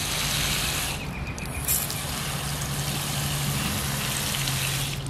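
A garden hose watering a dry raised garden bed gives a steady, close hiss of spray that runs unbroken and alone, with no talk.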